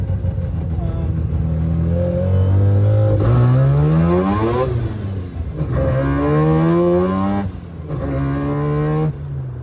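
A Mazda RX2 with a Toyota gearbox, heard from inside while driving. The engine note climbs in loud repeated revving sweeps, drops at each gear change, then climbs again, with voices talking over it.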